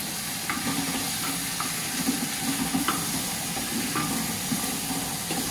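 Butternut squash sizzles and fries in a pan while being stirred, a steady hiss with soft scraping and clinks of the utensil throughout, no talking.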